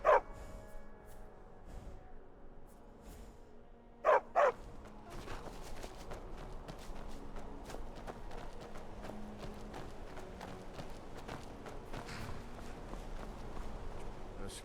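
A war dog in Skyrim barks in two quick bursts, one at the start and another a few seconds later, followed by trotting footsteps and movement noise. Spoken dialogue can be heard in places.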